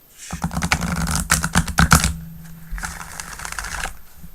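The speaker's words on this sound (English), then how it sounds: "that was a nice shuffle" A deck of tarot cards riffled and shuffled during a live reading, quick crisp flutters and slaps that run in a dense burst and then trail off into softer handling.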